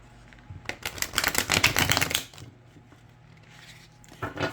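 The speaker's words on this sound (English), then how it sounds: "So let's try a riffle shuffle first." A stiff, slightly oversized tarot deck being riffle shuffled, giving a close, dense burst of rapid card flutter lasting about a second, then a quieter pause and a short final riffle or bridge at the end.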